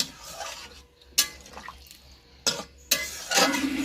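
Water splashes into a pan of jackfruit and potato curry in several short, sharp bursts with quieter gaps between them, ending in a longer, fuller pour, with no speech.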